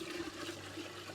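Rainwater pours from a container into rice water, a short, steady gush of liquid splashing close by, with no talking.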